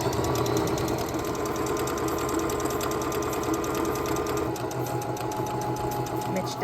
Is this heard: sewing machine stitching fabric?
yes